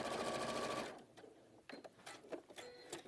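Sewing machine with a normal presser foot stitching laminated raincoat fabric, a fast steady mechanical whirr for under a second, then stopping, followed by faint clicks and fabric handling.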